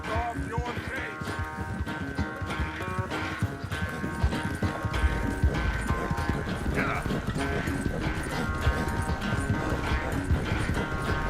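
Horse hooves clip-clop steadily at a brisk gait in the Western video game Red Dead Redemption 2, layered with game music and occasional speech.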